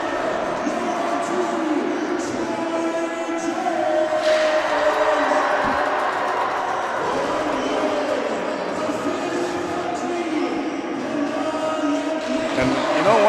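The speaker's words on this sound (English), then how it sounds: "the noisier crowd belongs to Bishop Feehan" Bishop Feehan fans in the stands at a high school hockey game, a loud, steady crowd roar with cheering and babble that swells near the end.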